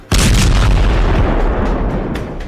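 A heavy bomb blast from an Israeli strike on Lebanon or Gaza, one sudden loud boom that rolls out into a long rumbling decay.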